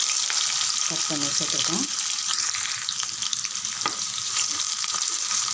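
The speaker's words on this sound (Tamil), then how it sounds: "வெங்காயம் நல்லா வதங்கட்டும்." Sliced onions frying in hot oil with fennel seeds, cinnamon and cloves for a coconut milk chicken gravy, a steady close sizzle with occasional stirring, and someone speaking briefly over it.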